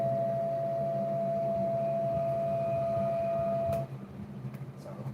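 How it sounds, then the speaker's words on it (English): A steady dual-tone siren note built from generated tones holds evenly at moderate loudness for nearly four seconds, then cuts off and leaves faint background noise. "Sound kind of like a 10-12 port electromechanical siren."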